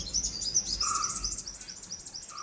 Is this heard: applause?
no